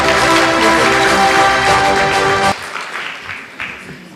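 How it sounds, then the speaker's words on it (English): Applause from an audience at a legal awards ceremony, a dense steady clatter of clapping that holds strongly for a couple of seconds and then thins and fades out. "A round of applause"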